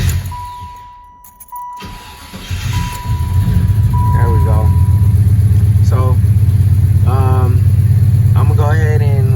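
An Impala SS idles while warming up on a cold day, a steady low engine rumble that starts after a brief lull and holds loud and close, with someone talking over it.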